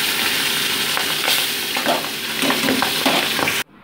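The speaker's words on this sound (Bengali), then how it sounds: "এবার তেল প্রিহিট হতেই তার মধ্যে কিন্তু মাছগুলো দিয়ে আমি ভেজে নিচ্ছি" Pabda fish, washed and rubbed with salt and turmeric, frying in preheated oil; a loud, continuous crackling sizzle with occasional spattering pops and utensil stirring, cutting off abruptly at the end, with no talk.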